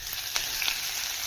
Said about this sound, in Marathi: तर आता आपण त्याला फोडणी देऊया